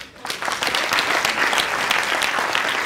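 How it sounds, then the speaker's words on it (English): Students in a school audience at a talk on money break into loud, sustained clapping that swells quickly and stays dense and even, with no voices over it. "you can clap for that"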